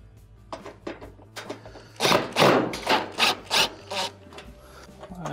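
Metal top panel of a Maytag stove sliding into place, a series of short scraping, rubbing bursts close by, a few light taps first, then several louder drags in quick succession.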